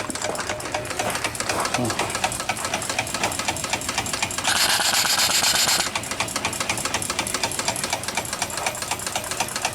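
A small steam engine and steam pump fed from a feedwater tank with a heat exchanger run with a fast, even mechanical clatter. A brief louder hiss cuts in partway through.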